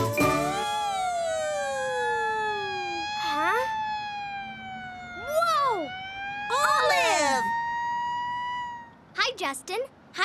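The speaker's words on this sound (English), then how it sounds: "I'll turn on the siren." A cartoon fire truck siren wails in rising and falling sweeps, broken by short bursts of chiming, bell-like tones. A few quick warbling blips close it out, all loud and up close.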